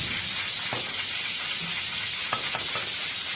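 Masala spices sizzle and fry in a pan for beef nihari, a steady close hiss with a few faint stirring scrapes and no talk.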